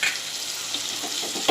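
Water poured into spice paste frying in oil in a pan for Konkani masoor pulao, a steady soft hiss and sizzle throughout with a louder splash near the end, close and alone.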